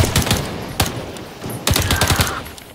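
Shotgun blasts in the Earthfall shooter game, several sharp loud bursts fired in quick irregular succession, each with a short ringing tail, with no talk over them.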